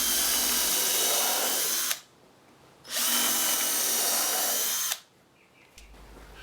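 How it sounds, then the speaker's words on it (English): Power drill pre-drilling screw holes in pallet wood for a table, two bursts of steady high whine of about two and three seconds each with short pauses between. "Pre-drill 2 holes for screws."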